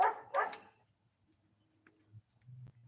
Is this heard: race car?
no